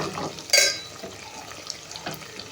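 Homemade herbal hair oil simmers on low heat in a pan on a stove, its blended green herbs turning black, giving a faint steady sizzle with one brief clink of utensil against pan.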